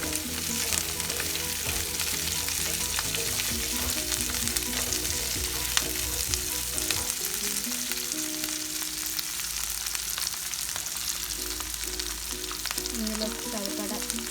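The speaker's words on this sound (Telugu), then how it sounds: "సరిపడా నూనె, ఆయిల్ కొంచెం హీట్ అయినాక ఆనియన్స్, మిర్చి కట్ చేసి పెట్టుకున్న రెండు వేసేసి" Chopped onions and green chillies fry in hot oil in a pan, a dense continuous crackling sizzle at close range, steady and loud, with faint music playing underneath.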